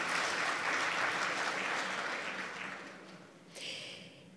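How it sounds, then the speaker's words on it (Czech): Applause from the audience at the Zlatá koruna 2019 gala awards ceremony for a winning banking app, steady at first and fading, with a brief bright burst of music or chime near the end. "I ta si zaslouží potlesk."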